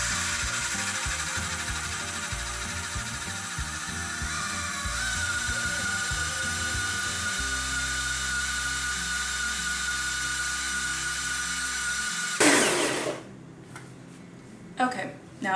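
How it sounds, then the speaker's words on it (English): A blender whirs loudly and continuously for about twelve seconds while blending a vegan cream for berry sourdough French toast. The motor's pitch drops partway through, then the machine cuts off abruptly, leaving quiet handling noises. "Let's blend this up."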